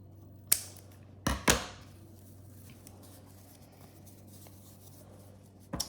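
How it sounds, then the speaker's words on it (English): Scissors snipping pipe cleaners for a craft, a few sharp close clicks near the start and one more at the end, with quiet gaps between. "Now I'm just gonna cut these pipe cleaners."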